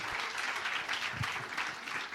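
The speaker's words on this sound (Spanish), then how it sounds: "Un aplauso para Mariana, por favor." A congregation applauds during a testimony at a church service, steady crowd clapping that stays fairly close and even for the whole span, with no speech over it.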